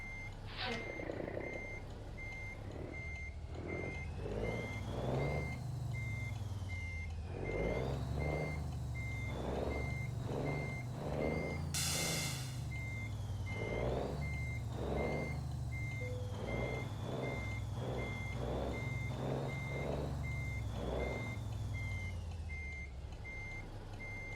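A truck pulling a trailer reverses while its backup alarm beeps in a steady, evenly spaced series over the low engine rumble, with a brief hiss partway through.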